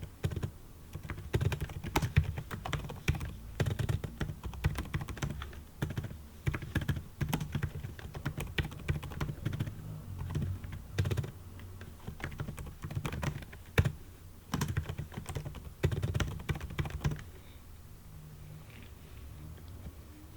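Steady typing on a computer keyboard at a desk, a quick run of close, crisp key clicks that goes on for most of the stretch, then thins out near the end.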